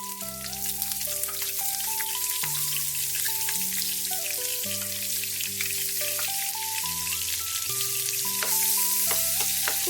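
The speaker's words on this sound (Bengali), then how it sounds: "দিয়ে ক্যাপসিকামগুলোকে ভেজে নেব একটু নুন আর হলুদ দিয়ে।" Capsicum fries in hot refined oil with salt and turmeric, producing a steady crackling sizzle like light rain that runs under background music throughout.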